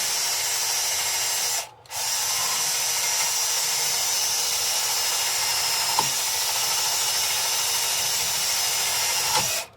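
Steady power sanding on the outside of a round-bottomed apple wood bowl, a continuous loud whirring buzz with one brief stop and restart and occasional light scuffs against the wood.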